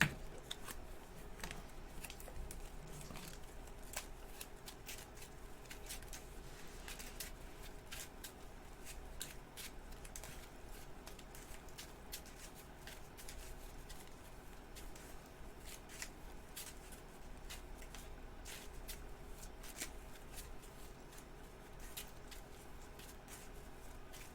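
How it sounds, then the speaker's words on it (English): Cards are shuffled into a deck for the Marvel Champions card game, quick riffling bursts and soft slides recurring over and over, close and fairly quiet, with no talking. "So yeah, we shuffle the pouches into our deck."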